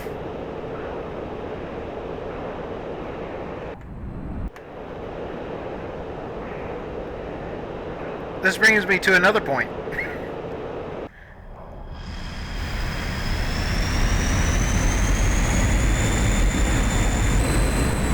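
A MiG-21bis jet engine in the DCS flight simulator drones steadily, breaks off, and then spools up into a louder, rising whine with a high tone. A voice talks briefly partway through.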